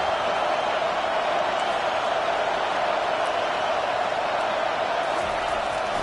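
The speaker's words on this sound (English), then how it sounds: "Listen to this crowd just shaking the girders of this place trying to help their defense." Stadium crowd in the Madden football video game, a dense, loud, continuous roar that holds steady throughout, with no break or lull.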